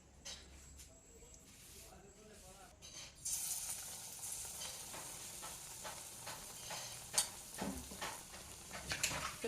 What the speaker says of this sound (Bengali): তো বেগুনি এখন ফ্রাই হচ্ছে।